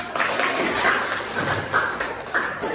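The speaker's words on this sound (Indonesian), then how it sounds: "Ya, tepuk tangan." Classroom applause closing a group presentation in an Indonesian teaching session, a steady patter of many hands clapping that swells in bursts and carries on for about three seconds.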